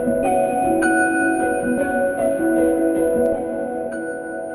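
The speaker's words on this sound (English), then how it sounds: "I'm just gonna add a little arpeggio and show you guys what that'll sound like." An Omnisphere 2 retrospective piano preset plays a soft, sustained chordal tone with a gentle half-speed arpeggio of repeating notes, steady and mid-loud throughout without any talking.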